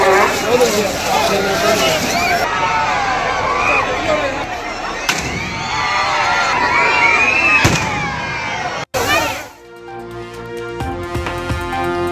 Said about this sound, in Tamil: வானில் வர்ணஜாலம் காட்டிய பட்டாசுகள்